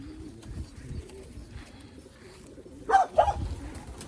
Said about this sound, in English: these are all 2020 birds. These are young birds.